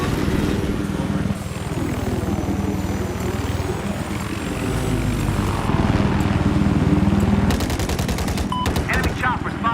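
A helicopter in a multiplayer war shooter video game thrums loudly and continuously, while rapid bursts of gunfire crackle near the end and voices talk faintly in the mix.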